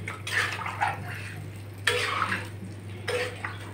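Water goes into a pan of potato and cauliflower curry, a few short splashing pours and metallic clinks close by over a steady low hum.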